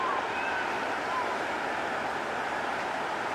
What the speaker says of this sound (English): Here's a waterfall across the road from the salmon